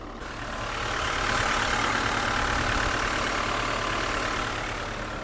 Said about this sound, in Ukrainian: А давайте зараз послухаємо, як працює двигун в даному автомобілі.